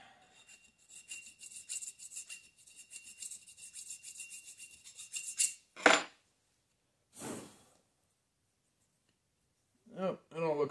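A hand file rasps in quick, even strokes across the edge of a flywheel part from a Kohler Magnum M18 engine, a close scratchy rubbing followed by a couple of louder scrapes, then someone speaks briefly.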